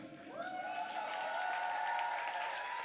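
Audience applause at a live jazz concert, a steady wash of clapping that swells slightly and holds evenly, with a faint sustained tone running beneath it.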